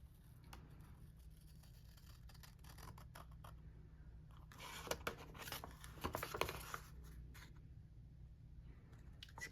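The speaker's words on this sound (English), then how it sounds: "So we're just gonna cut" Scissors snipping through paper for a folded circle pocket craft, a close run of crisp cuts that grows busier midway, with handling rustle under a steady low hum.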